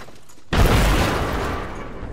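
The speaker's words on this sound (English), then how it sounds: "Throwing frag." A frag grenade detonates in the Apex Legends video game: a single sudden, loud, close blast that breaks a quiet moment and then rolls off into a fading rumble and crackle.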